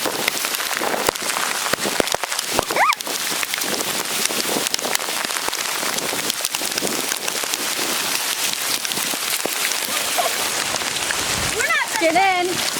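Heavy hurricane rain pours down in South Carolina in a dense, unbroken hiss, loud and close, with brief voices cutting in near the start and end.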